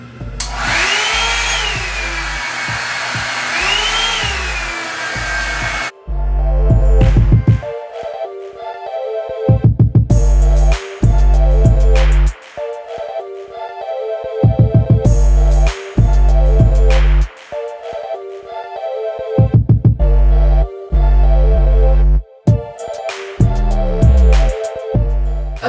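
Revlon One-Step paddle brush hair dryer running on its low setting, a loud steady blowing whir that cuts in and out repeatedly while background music plays.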